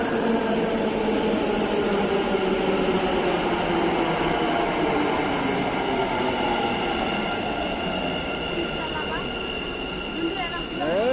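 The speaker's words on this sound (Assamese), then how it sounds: "আমি যাবলগীয়া মেট্ৰ'খন আহি পালে এতিয়া" A metro train rolls in with a loud, steady rumble and rising whine, slowing with faint squeals near the end, close by.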